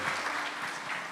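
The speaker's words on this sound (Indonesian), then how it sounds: "Kasih tepuk tangan sekali lagi." A congregation claps at a Christian sermon, a short burst of steady, fairly dense applause with no talking over it.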